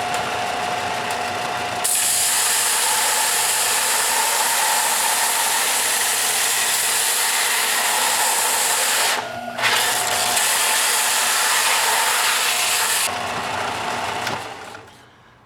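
A power sander with rougher sandpaper works across the face of a wood slice, a loud continuous whirring drone with one brief dip partway through, then winding down at the end.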